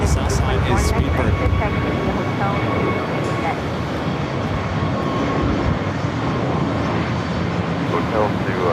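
A British Airways jet taxis on the south side at LAX, a loud continuous engine roar with broadband rumble that holds steady throughout.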